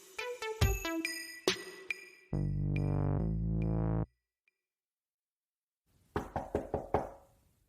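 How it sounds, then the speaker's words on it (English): Sharp knocks on a door come in rapid bursts, loud and close, separated by a sustained tone and a silent gap before a final flurry of hard raps. "Jeez, why are you knocking like the cops?"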